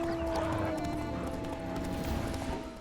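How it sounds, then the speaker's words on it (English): Horses galloping in The Witcher 3 video game, a steady rapid drumming of hooves at close range over a constant background hum, with no voices. "let's take the horses faster."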